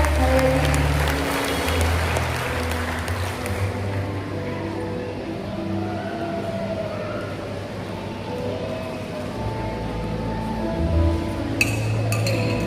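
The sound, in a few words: audience applause at a Christmas celebration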